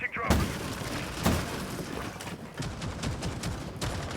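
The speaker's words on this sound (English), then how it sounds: "A cacophony of gunfire relaying around that top floor" Dense gunfire rattles across the top floor of a castle map during a competitive Rainbow Six Siege esports match at the Atlanta Major, with sharp repeated shots and bursts under continuous commentary.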